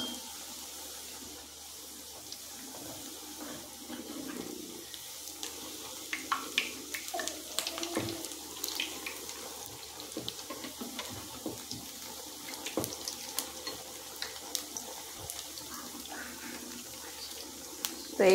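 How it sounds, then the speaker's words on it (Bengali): Pitha cakes made from flour and semolina fry in hot oil with a faint, steady crackle and scattered pops, under low background noise. "দিয়ে এগুলোকে এইভাবে আমি ভেজে নেব"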